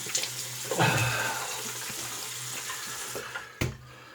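Running water from a tap rinses off after a wet shave, a close, steady hiss and splash that fades, broken near the end by a sharp knock, with no talk.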